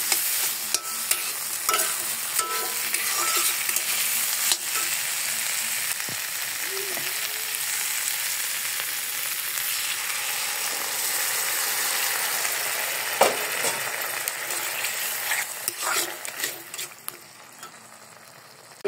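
Prawns with new potatoes and tomato fry in a pan under constant close stirring, a dense sizzle with repeated scraping and clicking of the utensil, fading near the end.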